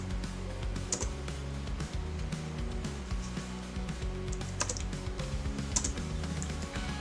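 Computer keyboard typing while entering a program in Omron PLC software, with soft, continuous key clicks over a steady low hum, fairly quiet and close.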